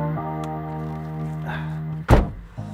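A Renault Kangoo ZE or Master ZE electric van door opens with a single close, solid thunk near the end, following a quiet steady hum inside the cab.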